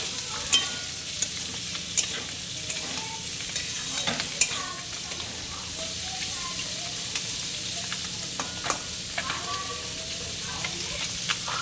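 Figs frying with onion, chili and five-spice in a pan, a steady close sizzle with scattered stirring clicks and faint pops running throughout, alone without talk.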